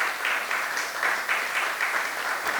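Audience applause at a worship concert, steady clapping with a rhythmic pulse in short bursts, sustained and fairly close throughout.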